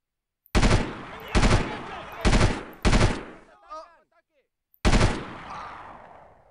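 Bursts of automatic gunfire from the night raid mission in the video game Delta Force 2, four loud rapid volleys in quick succession, a short quiet gap with faint chirping, then one final long burst fading out.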